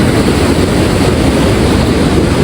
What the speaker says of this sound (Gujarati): પાણીનો પ્રવાહ કેવો તમે કરી જુઓ.